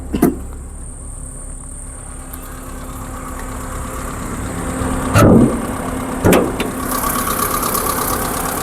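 A Hyundai Santro engine idles steadily with a low, even rumble, broken by a few sharp clicks and knocks nearby.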